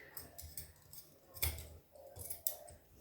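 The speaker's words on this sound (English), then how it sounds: "So I'll be trimming the shady part of the fabric" Scissors trimming fabric while making sandals from old clothes: a few quiet, close snips and clicks at irregular intervals over a low background hum, with no talk.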